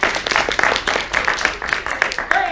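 Live audience at a stage show clapping in scattered bursts, steady and fairly loud throughout, with a few cheers mixed in.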